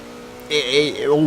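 The Jaguar V12 race car engine in Forza Motorsport 7 revs up with a rising harmonic whine, holds and shifts pitch, then dips and climbs again, fairly close and loud.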